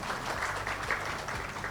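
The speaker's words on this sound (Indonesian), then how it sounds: "Jadi tepuk tangan dulu untuk Bu Kadis kita." Brief applause rises for the head of a government agency at an International Women's Day celebration, a dense crowd clapping at moderate level for under two seconds.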